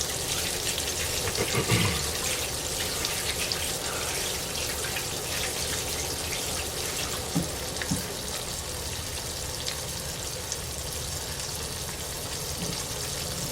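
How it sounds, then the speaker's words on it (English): Tap water runs in a steady, continuous stream for hand washing in a home kitchen during cooking, with a few small clunks over the rush. "Let me wash my hands."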